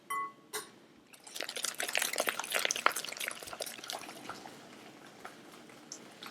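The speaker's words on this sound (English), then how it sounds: "And just keep mixing." Egg yolks being mixed into butter for Margaret biscuits, a busy run of soft wet clicks and squelchy scraping that starts after a short pause and continues steadily at close range, fading a little toward the end.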